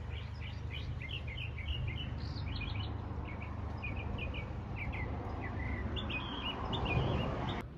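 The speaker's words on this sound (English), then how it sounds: "Of course the bird." Small birds chirp and tweet repeatedly at a backyard bird feeder, giving a busy scatter of short, fairly faint calls over a low hum of insects.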